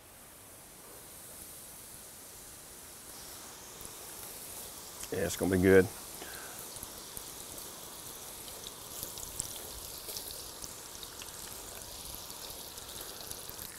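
Turkey nuggets dropped into hot frying oil make a short, splashy burst as they go in, then a steady, soft sizzle that carries on. A voice speaks briefly.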